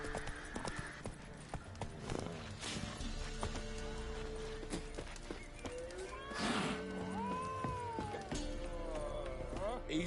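Roach, a horse in a video game, gallops with steady rhythmic hoof clip-clop and occasional whinnies, set among layered game music, ambience and other effects.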